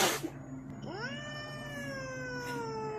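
A cat lets out one long, drawn-out meow that rises and then slowly falls, close and clear over a quiet background, after a brief rustle at the start.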